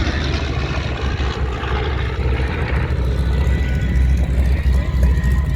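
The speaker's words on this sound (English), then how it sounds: "Airplane that you see that flew by, the B-25 Double Dog" A loud B-25 propeller bomber roars past close by at an air show, a thick continuous engine drone that swells slightly toward the end.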